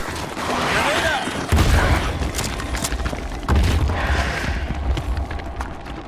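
A grenade detonating in the sci-fi shooter Starship Troopers: Extermination, with two heavy low booms about two seconds apart over a busy backdrop of gunfire and battle noise.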